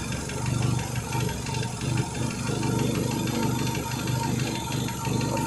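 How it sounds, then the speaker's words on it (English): A Renault Megane 2 engine idles with a misfire, a close, steady mid-pitched rumble with an uneven, pulsing rhythm and slight periodic dips in loudness. "Getting a misfire some way."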